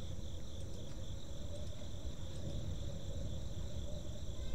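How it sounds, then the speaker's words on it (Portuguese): Crickets chirp as constant background ambience in The Darkside Detective video game, a steady high trilling layered over a low, even hum with no voices. "Tem um barulho de grilo vindo daqui."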